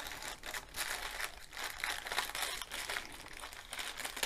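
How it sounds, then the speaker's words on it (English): Scissors slicing along the top of a standard grey plastic mail bag, giving a close, steady crinkling and rustling of plastic that runs continuously for several seconds with no voices. "absolutely standard grey bag, and I shouldn't have any problems opening this one. So I'll just cut along the top,"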